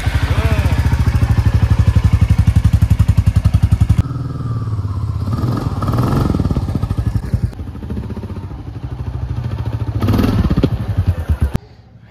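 A motorcycle engine running close by while riding, with a loud, steady thumping idle-like rumble that shifts to changing revs and clatter as the bike moves, ending in a brief drop-off.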